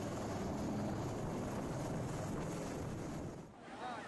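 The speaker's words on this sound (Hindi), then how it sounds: "सेना के हेलीकॉप्टर ने एक मकान के ऊपर रुककर राहत सामग्री लोगों" An army helicopter hovers over a house in flooded Kerala, its rotor drone a steady, moderately loud wash of noise that dips briefly near the end.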